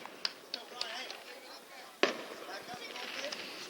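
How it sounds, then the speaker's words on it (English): Fireworks crackle and pop over a youth baseball game at Hutchinson at night, several light bursts followed by a sharper bang, heard from a distance beneath a commentator's steady talk. "Fireworks still going off."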